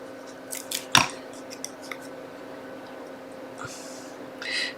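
Scissors cut through stacked blue cardstock in a few sharp snips and crunches up close, with a soft rustle of paper afterward and no speech.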